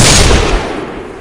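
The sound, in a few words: gunshot to a zombie's head, loquendo story sound effect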